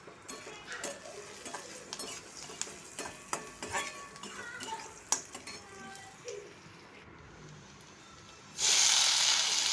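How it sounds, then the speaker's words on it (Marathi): Close scraping and clattering of a spatula stirring fenugreek greens in a metal wok, irregular strokes over a soft sizzle, ending in a burst of loud hiss. "भाजी कढईमध्ये घातलेलं आहे आता ह्याला खालीवर परतून घ्यायचं"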